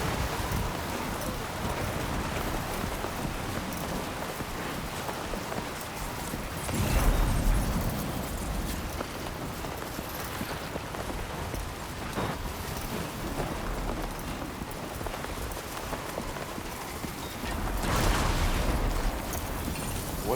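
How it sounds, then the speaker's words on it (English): Rain pours steadily in the video game Death Stranding 2, a dense hiss with a couple of louder rumbling surges as lightning strikes and thunder rolls through the storm. "Was that a motherfucking lightning strike?"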